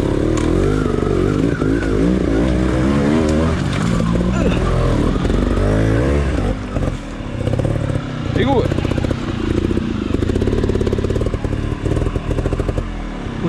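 A trial motorcycle rides over loose gravel on a rocky trail, its engine revving continuously and close with a shift into second gear, under clattering stones and a voice talking over it.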